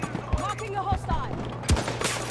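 Several sharp gunshots crack from a sniper-themed shooter game, spaced irregularly and fairly close. A voice talks between them.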